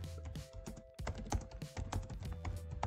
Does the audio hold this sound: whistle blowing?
no